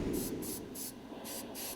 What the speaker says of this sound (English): The airbrush I'm using is the Iwata HPCH, and I'm just spraying repeated fine coats of the Vallejo primer